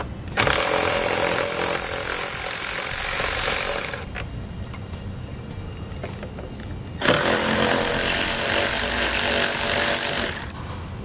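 A powered driver with a 10mm socket removes taillight bolts on a 2019 Subaru Outback in two loud, whirring bursts of about four seconds each, separated by a quieter pause.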